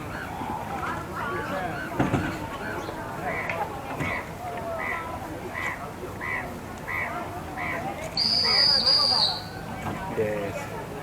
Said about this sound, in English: Oh yes, and the guard whistles.